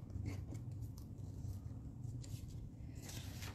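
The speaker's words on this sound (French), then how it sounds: "Mais ça se fait très bien aussi avec des ciseaux." Scissors snip through patterned craft paper during card making, a steady close-up rasp of cutting with soft handling noises and no talk.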